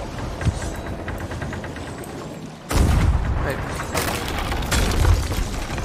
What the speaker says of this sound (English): I'm gonna keep hitting the cannons.